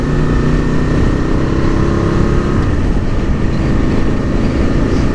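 Aprilia RSV Mille R sport bike, 22 years old, riding on an open road, its engine a continuous loud drone blended with heavy wind rush throughout.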